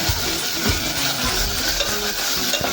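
Curry leaves and spices fry in a pan, giving a loud continuous sizzle with occasional stirring scrapes and no voices.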